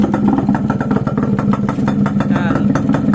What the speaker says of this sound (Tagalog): Medyo tahimik yung makina niya, hindi naman gaya ng sobrang ingay.